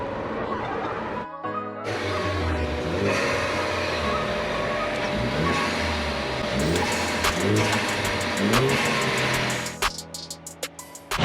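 A Ford Focus ST engine runs loud and close while the car is moved toward a garage with its radiator fan running, giving a steady mechanical drone with rattles and a burst of clicking near the end.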